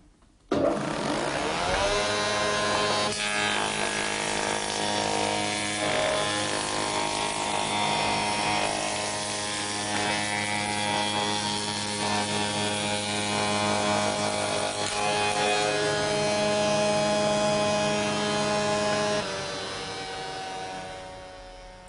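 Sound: spindle moulder cutting wood

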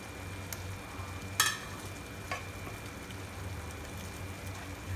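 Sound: fried paneer added to curry and cooking in the pan

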